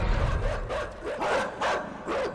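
Dogs barking in the video game Inside, a series of sharp, mid-distance barks in an uneven rhythm, about five bursts over low background noise.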